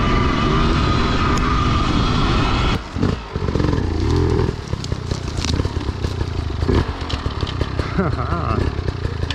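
A Surron X electric dirt bike ridden hard, its motor whining loudly and steadily with clatter and rattling over continuous rough noise, close and dense for the whole stretch, with a brief dip partway through.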